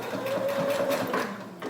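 A sewing machine back stitches across the end of a homemade fabric face mask, a close, steady motor whir with rapid needle ticking throughout.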